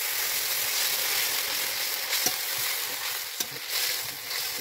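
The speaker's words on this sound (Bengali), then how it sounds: "তো এখন আমি একবারে গ্রেভির জন্য জল দিয়ে দেবো।" Water hits hot fried masala in a pan for gravy, setting off a broad, steady sizzle with a couple of sharp pops and crackles, loud and close with no talking.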